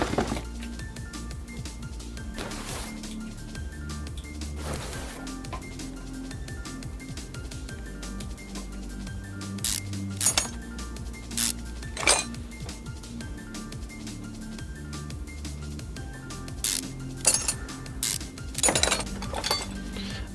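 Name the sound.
metal parts clinking while removing the oil pan, from the video game Car Mechanic Simulator 2021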